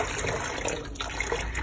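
Hot water runs steadily from a tap in a continuous rushing splash, close and fairly loud, with no voices.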